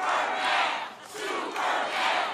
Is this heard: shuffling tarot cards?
no